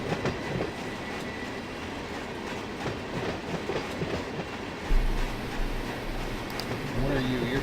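Freight train in the Run8 train simulator rolls along with a steady rumbling, clacking noise and a low heavier rumble joining near the end, with some voice activity mixed in.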